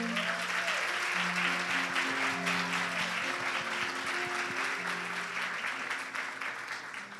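A congregation at a church worship service applauds the worship band, with steady, dense clapping throughout while soft sustained keyboard chords continue underneath, gradually thinning toward the end.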